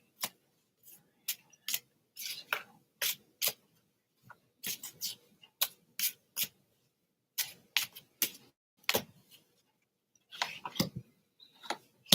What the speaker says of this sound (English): I'm gonna shuffle for like about a couple seconds because I'm sick and tired of seeing those same cards.